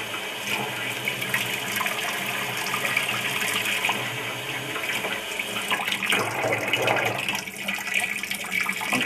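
Tap water streams steadily onto a ping-pong ball, a continuous close splashing and hissing flow that holds at an even level throughout with no talk.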